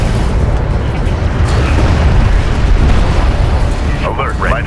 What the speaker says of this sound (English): Light attack vehicle destroyed.